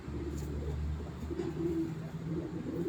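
Pigeons held in a crate give low, rolling coos, close and continuous, with soft layered calls overlapping in a quiet setting.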